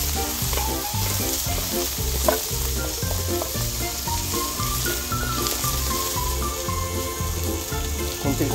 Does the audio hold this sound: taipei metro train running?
no